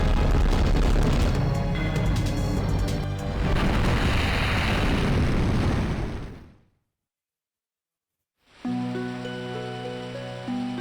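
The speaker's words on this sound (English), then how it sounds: "Oh no, it's going to explode!" A hero's spirit explodes in the Glory of Heracles game as a long, loud roaring blast that rumbles for several seconds, fades into total silence, then gives way to a sustained tonal sound.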